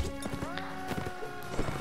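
Horse hooves pounding at a full charge in the medieval combat game Mount & Blade Warband, a rapid clattering gallop mixed with game noise and faint overlapping talk throughout.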